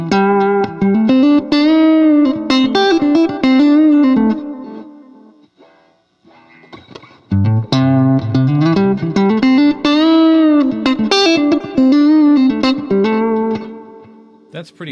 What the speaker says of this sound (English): So you can hear that the DelVerb has a little bit more brightness on the attack of the feedback repeats than the Galaxy does.